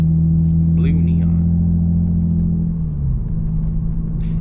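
A loud modified Lexus IS300 sits in traffic with a deep, steady exhaust drone that dips slightly in pitch partway through, with a brief faint voice near the start.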